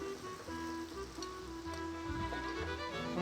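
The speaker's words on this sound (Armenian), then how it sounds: "այստեղ ավելացնենք տապակի մեջ կարակ" Butter sizzles in a hot frying pan, a steady close-up crackling hiss that runs the whole time over a faint tonal background.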